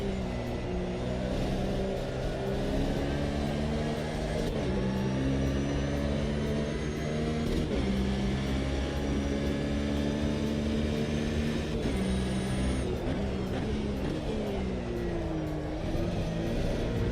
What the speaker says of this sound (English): The car sounds are nice, actually.